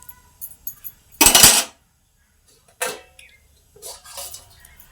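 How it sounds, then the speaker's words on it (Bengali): A metal lid is set onto a wok (kadai) holding fish curry with water added, making a sharp clank followed by two quieter metallic knocks and rattles in a quiet kitchen. "তার জন্য এবার ঢাকা দিয়ে দেবো আমি এখন কড়াইটার মধ্যে"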